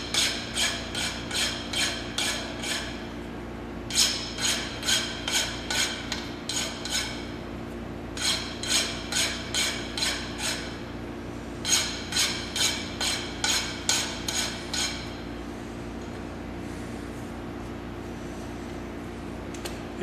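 A freshly milled metal block being deburred by hand after machining, sharp rhythmic scraping strokes in quick bursts separated by pauses over a steady machine-shop hum.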